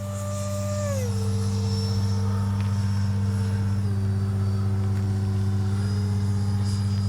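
An H-King Flycat V2 RC jet makes a touch and go on a runway, its steady turbine whine dropping in pitch as it settles, with constant loud low droning throughout and no talk.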